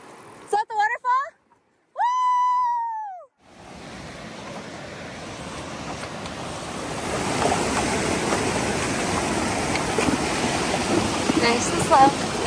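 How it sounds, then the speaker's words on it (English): Waterfall on a Northern California horse trail near Wolf Creek, Markleeville, a steady broadband rush of falling water that grows louder over several seconds, after a short whistle and a brief voice at the start. "Is that the waterfall?"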